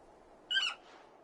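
A single bird in the Final Fantasy XVI video game gives one short, clear call that rises above a quiet game background, with no talk.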